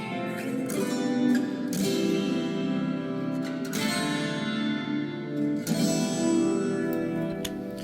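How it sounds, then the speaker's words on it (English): A 12-string guitar rings within a full song mix, its bright shimmering high strums washing over a dense band backdrop with periodic strong strokes, steady and loud. "There is a 12 string hanging up on the wall over there, and it features in this song"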